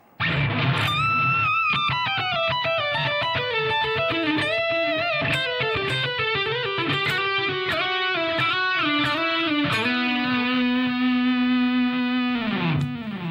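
Distorted electric guitar rips through a metal solo in a triplet feel, fast picked notes with slides, closing on a long sustained note, loud and up close with no talking.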